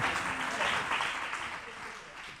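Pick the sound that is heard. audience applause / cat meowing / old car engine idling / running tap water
audience applause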